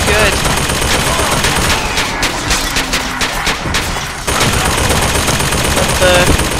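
Rapid automatic turret machine gun fire in the video game Bioshock Infinite, loud sustained bursts of rattling shots with dense overlapping reports and game battle noise, continuing throughout.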